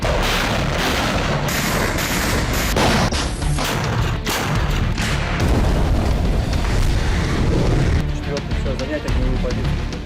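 Heavy MLRS rocket artillery fire in a war zone, a dense, loud barrage of booms and roaring blasts that continues without a break, with a voice speaking over it.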